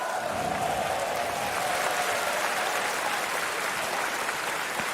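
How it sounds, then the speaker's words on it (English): A crowd at a Dota 2 esports tournament, The International 2018, claps in sustained, dense applause that holds at an even level, without any speech over it. "Round of applause for FNATIC."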